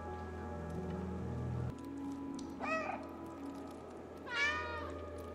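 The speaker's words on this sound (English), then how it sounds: "Oh, they meow with me." Cats meow twice in the video game Stray, with two distinct rising-and-falling calls over quiet ambient game sound and light rain-like noise.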